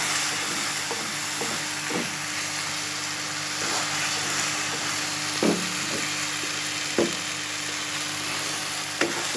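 Carrot halwa made with coconut milk, sugar and nuts roasting in a pan, with a soft continuous sizzle and intermittent scraping stir strokes close by, no talking.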